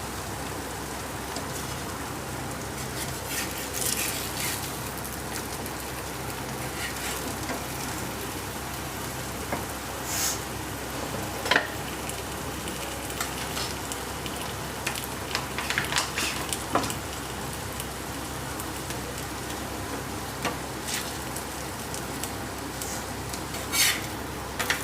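Oil sizzles steadily as a paratha fries in a pan while karela sabzi cooks alongside, a continuous close crackling hiss with faint scattered pops and no talk.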